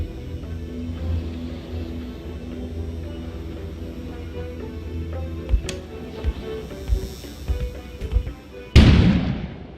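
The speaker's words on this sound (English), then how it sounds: "An explosion suddenly occurred outside." In the video game Kona, a low rumbling snowstorm drones before several muffled booms and one sudden loud blast near the end, with no voices.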